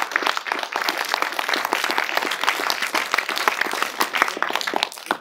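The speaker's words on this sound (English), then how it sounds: "So I think that's worth a round of applause in itself." An audience at a film festival Q&A applauds with brisk, dense, continuous clapping that carries through the whole stretch at an even, fairly loud level.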